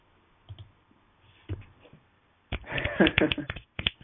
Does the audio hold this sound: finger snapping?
yes